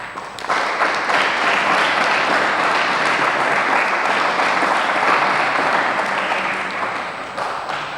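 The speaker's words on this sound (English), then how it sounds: "So you have a round of applause loudly." A large audience at a spiritual lecture session breaks into loud, sustained applause that swells quickly and holds as a dense wash of clapping for several seconds before tapering off near the end.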